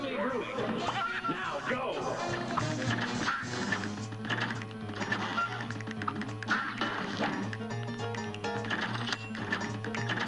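Cartoonish duck quacks come in rapid bursts from the clown boss fight in the video game Cuphead, mixed with hits and game effects under nearly constant excited talking.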